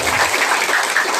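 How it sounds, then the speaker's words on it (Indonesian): Brief, loud burst of group applause at a gathering of Linmas community guards in Cikampek, dense clapping that holds steady for about a second with no talk. "tepuk tangan juga"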